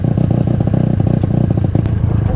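Honda CG 250 motorcycle at a drag race in Bahía Blanca, its engine revved hard at full throttle in rapid pulsing bursts, close and loud, with some clattering.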